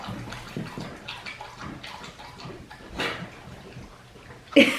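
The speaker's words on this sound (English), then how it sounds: "And I know you can hear Vixen getting some water" A pet dog laps water from a bowl indoors, a soft irregular run of wet slurps and splashes at close range, ending with a louder clink or slosh.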